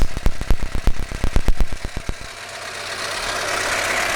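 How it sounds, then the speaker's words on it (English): A car engine turns over with rapid rhythmic knocks, then settles into a steady, even idle hum close by. "So start your engine"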